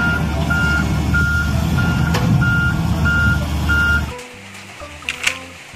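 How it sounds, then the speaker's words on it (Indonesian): A toy excavator truck sounds steady reversing beeps at an even pulse over a continuous motor whir. Both cut off after about four seconds, followed by a few soft clicks and quiet tones. "Wih, mobil beko ekskavator."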